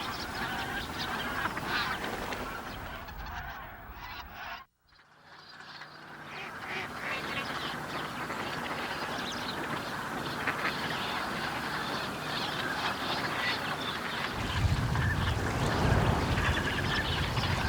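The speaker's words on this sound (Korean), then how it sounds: "오리떼는 계속해서 불어났다." Large flock of wild ducks and geese massed on winter fields, a dense continuous chorus of honks and quacks, briefly dipping before swelling back, loud and close throughout.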